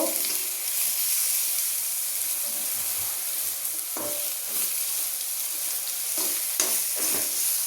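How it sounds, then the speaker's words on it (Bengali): Potatoes sizzling steadily in a pan with salt and turmeric, a continuous broadband frying hiss with occasional scraping stir clatters, close and fairly loud, with no talking. "আলুটাকে একটু ভালো করে ভেজে নেব।"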